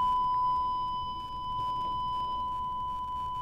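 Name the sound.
sine wave tone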